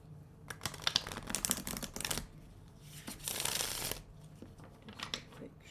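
A deck of tarot cards is shuffled close by in a few quick riffling bursts separated by short pauses, fairly quiet.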